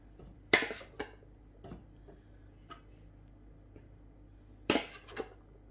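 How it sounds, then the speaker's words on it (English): A serving spoon clanks sharply against a pan as boiled rice is layered into it for kofta biryani. There are two bright metallic clatters, one near the start and one near the end, with softer scrapes and taps between them. "So in the same pan I boiled the rice in, just going to layer the rice."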